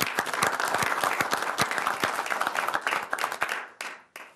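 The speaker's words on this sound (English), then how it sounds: "maybe we could have a round of applause" Applause at a city council meeting, a room of people clapping loudly and steadily, then thinning to a few scattered claps before fading out.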